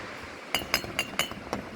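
Two empty glass Crystal Pepsi bottles found stashed in an old G-body station wagon clink together about five times in a steady rhythm, bright and close, with no talking.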